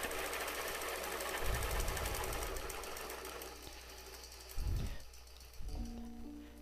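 A sewing machine stitches a quilt along a dahlia-shaped quilting template, running in a steady continuous buzz with a few heavier thumps of handling near the end, no talking.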